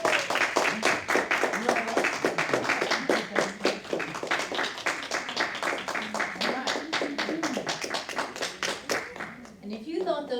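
Audience applause at a poetry slam spoken word competition as the second place winner is announced, dense steady clapping throughout with a speaking voice running over it.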